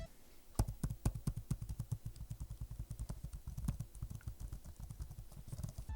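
Rapid typing on the keyboard of an ROG Flow Z13 laptop, a close run of crisp key clicks in an uneven rhythm, some strokes landing harder than others, with no talking.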